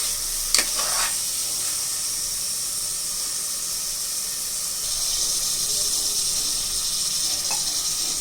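Chicken pieces frying in a hot pan with salt, a steady loud sizzle and hiss throughout, with a couple of brief clatters near the start and the frying growing slightly louder midway.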